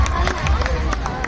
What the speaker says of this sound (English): Everybody give the Philippines and India a big round of applause